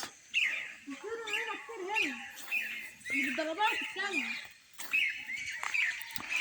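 Birds singing close by in the Chinese countryside, repeated bursts of warbling, chirping phrases with short pauses between them; no talking.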